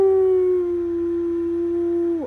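A person imitates a wolf howl with a single sustained, loud vocal tone held steadily for about two seconds before dropping off at the end.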